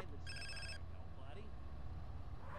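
A phone rings in the video game GTA San Andreas: one short burst of electronic ringing near the start, over constant in-game background rumble.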